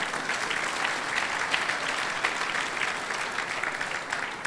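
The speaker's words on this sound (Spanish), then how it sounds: "Denle un aplauso al Señor." Sustained applause from a church congregation, a dense, steady wash of many hands clapping at even loudness throughout, with no voices standing out.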